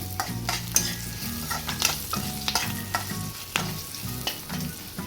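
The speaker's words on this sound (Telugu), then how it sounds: "దానికోసం కొద్దిగా కారం కూడా వేసుకుంటున్నాను ఒకసారి కలుపుకోవాలి" Green chillies frying with chilli powder are stirred in a pan, making rhythmic scraping strokes over a constant close sizzle. No voices are heard.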